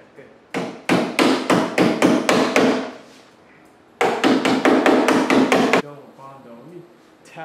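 A screwdriver tapping a dent ridge back into a car body panel during stud-welder dent repair: two rapid bursts of about eight loud, close, evenly spaced metallic taps, separated by a brief pause.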